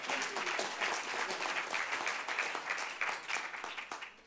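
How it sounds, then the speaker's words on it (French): An audience breaks into applause at a French event on the brain, giving a dense, continuous wash of clapping that holds steady for about four seconds before tapering slightly at the end. "Bravo, et on vous applaudit"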